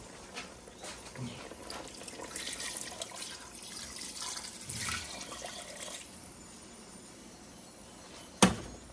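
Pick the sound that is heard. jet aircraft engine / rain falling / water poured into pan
water poured into pan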